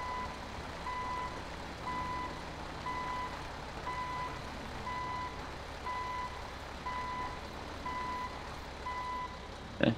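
Reversing alarm of a video-game tow truck backing into a full yard at night, a long run of evenly spaced beeps over a steady low engine drone, ending in a short sharp knock.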